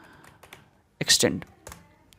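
Close computer keyboard keystrokes as Python code is typed, a brief burst of rapid clacks in the middle surrounded by a few lighter taps, with a voice talking softly around them.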